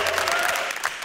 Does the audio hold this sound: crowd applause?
yes